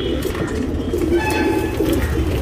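Tournament racing pigeons coo softly in a loft, several low repeated coos overlapping against a steady background hum, with no talking.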